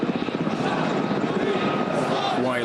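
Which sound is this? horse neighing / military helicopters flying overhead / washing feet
military helicopters flying overhead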